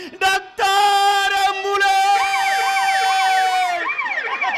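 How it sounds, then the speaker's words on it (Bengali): A loud ambulance siren effect in a Bengali jatra stage play opens with a few short blasts, then wails with a steady tone before breaking into a rapid rising-and-falling yelp, close and dominant. "অ্যাম্বুলেন্স।"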